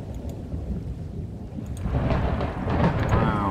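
Thunderstorm in the Minecraft game: steady rain hiss with low rumbling thunder that swells and grows louder toward the end, no talk.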